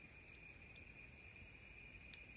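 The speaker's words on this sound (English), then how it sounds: "Hear all the frogs out there." Frogs calling at night in the woods form a faint, continuous high-pitched trill with soft pulsing beats, distant and steady with no talking.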